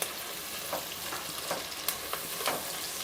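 Onion pieces frying in a pan with butter and a little added oil, a steady close sizzle broken by several sharp scraping stirs of a spoon.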